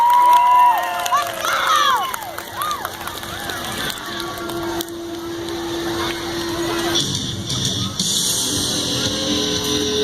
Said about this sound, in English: So with a big round of applause, let's get these guys going right now